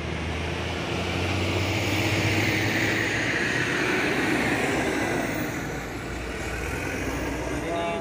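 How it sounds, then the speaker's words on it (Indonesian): A long Fuso Trinton Super Grid truck rumbles loudly past on a road, a heavy, steady engine roar that swells in the middle and eases slightly toward the end. "Juga ada satu nih truk Fuso Trinton Super Grid."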